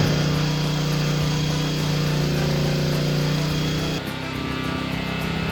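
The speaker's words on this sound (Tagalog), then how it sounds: "dito naman i-test natin yung highest ampere setting sa ating inverter welding generator" PK200A inverter welding generator running at its 200-ampere setting, a loud steady engine drone with a strong hum that dips briefly near the end and then carries on.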